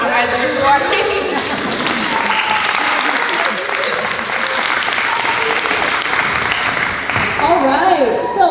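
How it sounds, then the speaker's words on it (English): Steady, dense applause from an audience for eighth graders at a show choir cabaret, loud and sustained for several seconds, with a few voices and cheers mixed into the clapping. "let's give one more big round of applause for our 8th graders"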